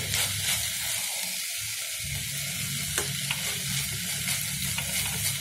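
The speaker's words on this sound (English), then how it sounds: "We have to saute it nicely because they are raw, they are not cooked." Raw vegetables for veg vermicelli sauté and sizzle in a hot pan. A steady, bright hiss of frying runs throughout, with the scrape of stirring recurring close by.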